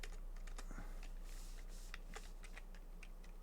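Keys clatter on a computer keyboard in quick, irregular bursts of typing, close but quiet, over a low steady hum.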